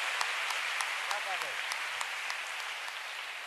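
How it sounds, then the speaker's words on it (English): Steady applause from a crowd at a sitar concert fills the whole stretch, dense and even, with a few sharper claps standing out. "Give him a big round of applause"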